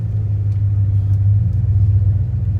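A 1995 Dodge Ram V8 with a Thrush welded muffler driving on the highway, a loud, steady low rumble throughout.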